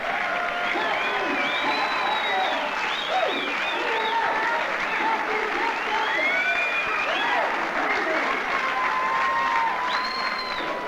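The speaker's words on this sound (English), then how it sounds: "Let's have a nice round of applause for Cathy Cat Davis." A crowd at a women's lightweight boxing event applauds and cheers for the world champion, with sustained clapping, whoops and loud whistles filling the hall throughout.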